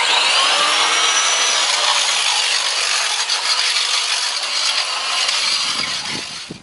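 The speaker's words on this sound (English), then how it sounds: "I like to go over it with a masonry grinder to clean that opening out so it's nice and smooth" A masonry grinder runs continuously and close, with a harsh high-pitched abrasive whine as it smooths a mortar opening around removed railing anchors, easing off at the end.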